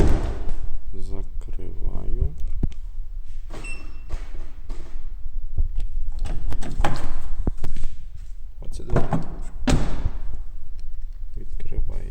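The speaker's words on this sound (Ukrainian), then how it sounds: "Передні двері закриваються, багажник закривається, а задні двері не закриваються." Central locking on a Skoda Fabia 2 with a fault that leaves the rear doors unlocked: a series of close, hollow door thumps and lock clicks scattered irregularly, with brief voice sounds in between.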